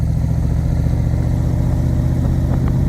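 A 2008 Backdraft Cobra roadster with a Roush 342R engine drives steadily, its engine note a loud, continuous low rumble with a faint rise in revs near the end and no talking.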